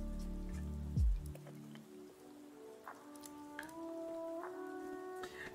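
Rain falls steadily over the Tokyo level of a video game, a soft continuous patter heard alone beneath bright game music tones, with a brief low rumble early on.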